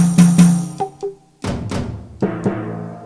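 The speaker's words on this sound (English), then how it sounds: "These are sounds you hear in cartoons." A quick series of cartoonish sound effects triggered from a drum kit, boings, pops and twangy hits, fired off one after another with short pauses between them.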